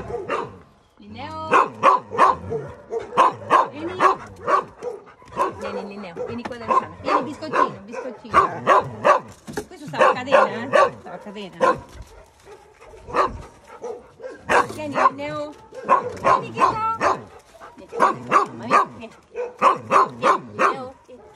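A dog barks and whimpers repeatedly at close range in short bursts, with a person talking in between.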